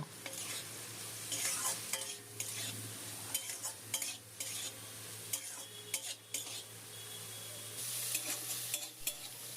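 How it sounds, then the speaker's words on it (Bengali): Eggplant pieces fry in hot oil seasoned with salt and turmeric, a steady close sizzle broken by repeated scraping and stirring of a spoon against the pan. "গরম তেলের মধ্যে কেটে রাখা বেগুনটা দিয়ে দিলাম"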